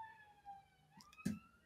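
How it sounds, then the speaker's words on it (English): Police sirens passing outside, heard as faint wailing tones that rise and fall behind a quiet room, with a brief sharp knock partway through. "There's a bunch of sirens that are just about to go by"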